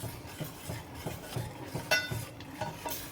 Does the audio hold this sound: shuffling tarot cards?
no